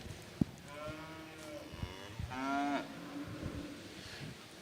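Steers lowing in the ring at a junior prospect calf show at a livestock show: a couple of fairly faint moos, a short one near the start and a longer drawn-out call midway, over soft barn and crowd background.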